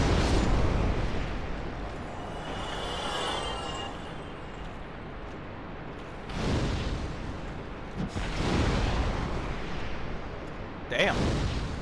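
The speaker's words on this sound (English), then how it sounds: "Fire Orb does a shit ton of damage." Fire Orb spells burst in Dark Souls Remastered, heavy fiery explosions booming in several loud blasts over a dense rumbling game soundscape, with sharp bursts near the middle and again toward the end.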